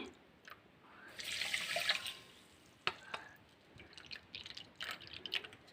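Water pours into a bowl of sugar to make syrup for jamun, a soft trickling rush lasting about a second, followed by faint drips, taps and light clatter nearby at a low level.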